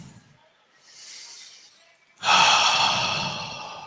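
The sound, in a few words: deep breath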